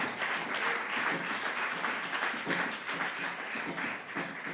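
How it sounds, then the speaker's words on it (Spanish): Congregation at a Sunday school church service clapping loudly and steadily, a dense, continuous applause with no talk over it. "Dale fuerte ese aplauso al Rey de Reyes y Señor de Señores."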